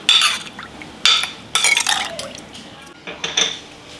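Several short scraping and clinking bursts as a spoon mixes chili powder, salt and spices in a bowl, spaced unevenly with brief pauses between.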